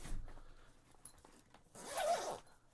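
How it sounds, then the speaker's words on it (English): A zipper on a motorcycle helmet bag, an LS2 Valiant 2 carry bag, is pulled open in one long rising rasp near the end, preceded by faint handling rustles; close and fairly quiet, with no talking. "Can unzip it."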